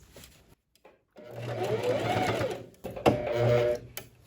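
A sewing machine stitches a tube dress in two bursts of rapid mechanical whirring, separated by a short pause and a sharp click, with a quiet gap before the first run.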